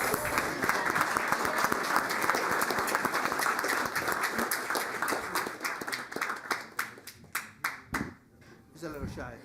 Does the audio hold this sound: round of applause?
yes